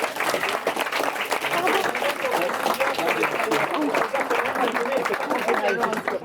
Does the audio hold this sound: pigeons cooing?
no